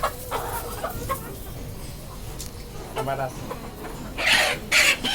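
A hill hen from Sylhet clucks close by, short bursts of fowl calls with a louder pair near the end, while a person speaks over the birds.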